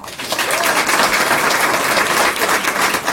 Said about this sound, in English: Let's give these students one more round of applause.